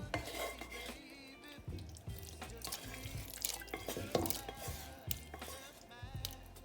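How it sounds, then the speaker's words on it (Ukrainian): Fried vegetable dressing being eased into a simmering pot of Kharcho soup with rice, with soft splashing and dripping, a utensil clinking against the pot, and a low hum underneath, close and fairly quiet. "додаємо до нашого супу зажарку"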